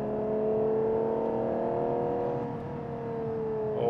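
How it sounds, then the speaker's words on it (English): A car engine drones steadily with a rising tone, pulling hard out of a corner after a downshift to second gear, then swelling louder at the end. "Down to second gear, accelerating out of the corner."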